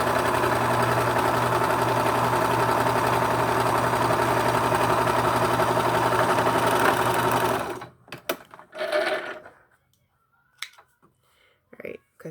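A home sewing machine stitches a medical face mask, a loud steady mechanical whir and hum running for about eight seconds before stopping, followed by a few scattered handling noises.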